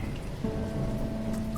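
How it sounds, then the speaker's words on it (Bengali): Steady, unbroken rain falling at night outside a glass bedroom window, heard as a soft continuous patter with a low background hum. "বৃষ্টি পড়ছে অঝরে"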